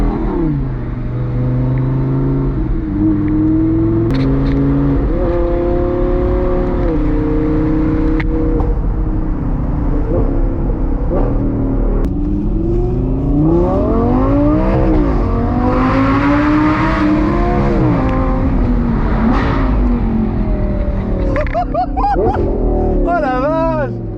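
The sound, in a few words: Audi R8 V10 engine revving, ethanol-tuned 600 hp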